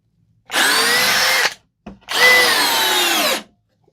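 A Skil cordless drill with a plastic chuck runs in two bursts of about a second each, a steady whirring motor whine with a short pause between, loud and close.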